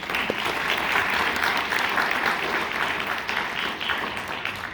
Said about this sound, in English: Can we clap for them one more time, please?